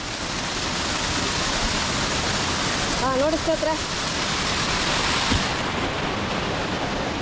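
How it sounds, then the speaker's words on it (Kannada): Water rushing down Sisters Falls near Hollemane, Dhoranagiri, making a steady broadband roar that runs through the whole stretch while someone speaks briefly over it. "ನೋಡಿ ಹೆಂಗೆ ಹೋಗ್ತದೆ ನೀರು ಇಲ್ಲಿಂದ ಇನ್ನ ಡೀಪಾಗಿ ಹೋಗುತ್ತೆ ಕೆಳಗಡೆ"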